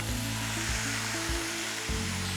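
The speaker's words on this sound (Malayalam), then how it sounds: "ഇതെല്ലാം കൂടെ ഒന്ന് വഴറ്റുക." Pumpkin pieces sautéing in a pan with other vegetables, a continuous broad sizzle with a low rumble and a few soft thumps from stirring, no talking.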